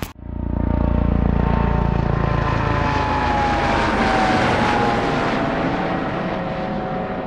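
A DJI Phantom 4 Pro V2 quadcopter spins up and flies close by, its propellers making a loud, steady whirring drone that swells in pitch and holds for several seconds without talk.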